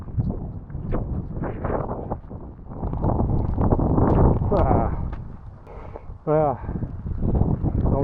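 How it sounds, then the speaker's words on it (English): Strong gusty wind on an exposed hillside slate trail in Snowdonia buffets the microphone in low rumbling surges, rising and falling with the gusts, with a voice speaking intermittently over it. "That wind is really strong, the gusts."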